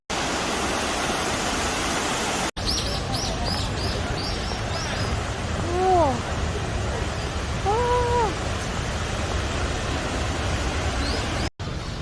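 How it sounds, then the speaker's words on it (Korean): Cheonjiyeon waterfall in Jeju, a steady broadband roar of falling water filling the whole scene, with brief bird chirps and calls rising above it partway through. "천지연 폭포에 왔어요."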